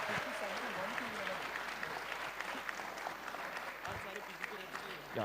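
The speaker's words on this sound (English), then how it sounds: "a huge round of applause for all the finalist teams here" An audience at a quiz final applauds the finalist teams in dense, continuous clapping, with voices speaking over it.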